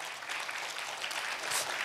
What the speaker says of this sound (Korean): 여러분 한번 공연해 주신 분들께 다시 한번 힘찬 응원의 박수 부탁드립니다